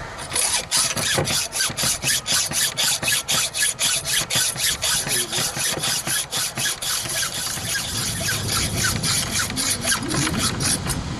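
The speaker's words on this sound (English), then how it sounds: "Well, of course, it is the hacksaw." A hacksaw cuts metal in a workshop, with steady back-and-forth rasping strokes in a regular rhythm, loud and close, slowing and smoothing toward the end.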